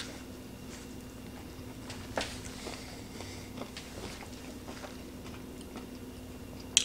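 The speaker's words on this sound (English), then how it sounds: "So that adds a bit of additional crunch." Someone bites into a vanilla M&M ice cream cone, giving a run of close, quiet crunches and crackles over a faint steady hum. The chewing is soft and irregular, and one sharper snap comes at the end.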